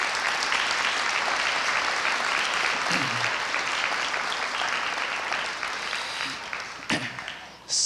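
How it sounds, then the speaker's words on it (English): Loud, sustained applause from an audience at a school district gathering honouring a leader, steady many-handed clapping that thins and fades toward the end with a few stray claps and brief voices. "Can we please give her a great round of applause?"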